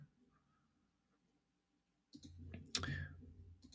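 Computer mouse clicks while setting up an app: quiet room, then a short burst of sharp clicks and handling noise near the end, close by and fairly loud against near silence.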